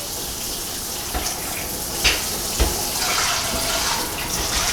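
Water sloshes and trickles steadily as a paper towel is rinsed in reef aquarium water beside the protein skimmer of a Waterbox reef tank, with a few soft splashes and drips standing out from the continuous wash.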